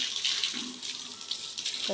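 Water runs steadily from a tap or hose onto garden trees in a continuous broadband rush, fairly close and unbroken.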